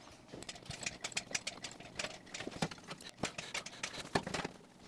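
A sheet metal flange on a 1994 Mazda MX-5 Miata NA wheel well being shrunk, giving a rapid series of sharp metallic clacks and taps in uneven bursts, fairly close and with no voices over them.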